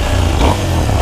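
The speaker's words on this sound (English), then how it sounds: "No, small rev. I just wanted to hear that." A KTM 390 Adventure single-cylinder motorcycle gives a short, small rev close by, a loud throaty engine note that rises briefly and settles again.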